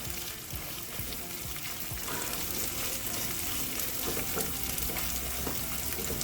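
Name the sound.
food frying in a pan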